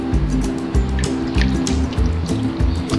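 Water pours into a pot of rice for chana pulao in a kitchen. It makes a continuous gurgling, splashing fill with irregular glugs, close and fairly loud, with no voices.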